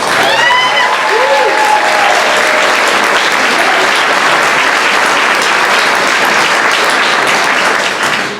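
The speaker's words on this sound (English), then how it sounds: "let's give HQ and Megan a round of applause" Dense, sustained audience applause at an investor panel event, steady and loud for about eight seconds, with a brief whistle-like tone near the start before fading at the end.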